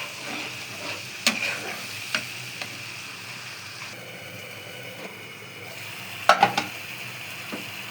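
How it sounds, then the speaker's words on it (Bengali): Spice paste for a fish curry sautés in oil with a soft, even sizzle. Occasional sharp spoon clicks and scrapes against the pan stand out, a few close together near the end. "দিয়ে এখন মশলাটা সুন্দর মতো ভুনে নিব, দিব তেলটা পর্যন্ত অপেক্ষা করবো"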